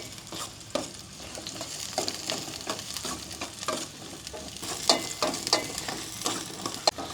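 Onion, ginger and garlic frying in a pan, a steady soft sizzle broken by repeated scraping stirs and small clinks of a utensil, close and without talk.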